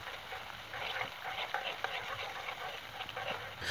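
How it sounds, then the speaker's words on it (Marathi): Potato wafers fry in hot oil in a small wok while a slotted spoon keeps stirring them, giving a steady close sizzle with soft scraping strokes throughout. "आपल्याला घरी छोट्याशा कढईमध्ये वेफर्स फ्राय करताना असं स्टर करण्याचं का गरज पडते?"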